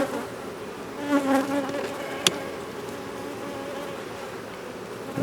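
Honeybees buzzing around a hive frame during queen rearing, a continuous close insect drone with no talk over it, swelling briefly and marked by one sharp click midway.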